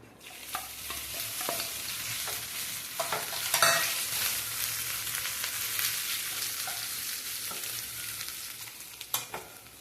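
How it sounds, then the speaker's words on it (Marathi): Cumin and mustard seeds crackling in hot oil in a pan, a steady sizzle scattered with sharp pops and spatters, one louder burst partway through, without any voices. "जिरे मोहरी तडकत आहे."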